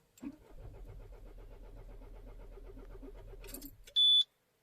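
A Citroën C4 Picasso 2.0 HDi diesel with a crankshaft sensor fault cranks for about four seconds without firing, a close, even rhythmic churning of the starter, and then a brief electronic beep follows.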